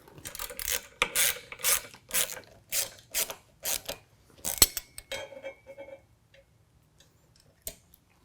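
A hand ratchet cranks bolts tight on a Rugged Ridge Sherpa roof rack fitted to a Jeep JL, producing about nine close, rhythmic clicking strokes, a sharper clack, then quiet with a faint tick near the end.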